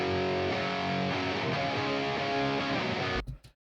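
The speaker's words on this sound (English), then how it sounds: "Here's the electric guitars. There's two distortion tracks, one pan right, one pan left." Thick, sustained Marshall-like distorted electric guitar chords from two tracks panned left and right ring out steadily, then cut off abruptly near the end, leaving a brief decaying tail.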